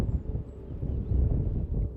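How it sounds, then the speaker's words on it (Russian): Wind buffets the microphone in low, uneven rumbling gusts in winter in Norilsk, close and muffled, with no talking. "Что-то ветер поддувает."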